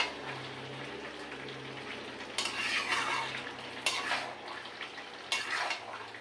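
Pui shak curry with shrimp thickens in a pan as a spoon stirs it, a gentle simmering sizzle punctuated by three louder scraping strokes against the metal, close, with no one speaking.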